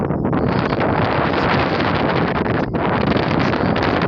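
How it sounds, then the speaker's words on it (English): Heavy, steady wind buffets the microphone outdoors in Kenya, a loud broadband roar that rumbles without pause for the whole stretch, with no voices. "It's quite windy, and wind is coming up from the"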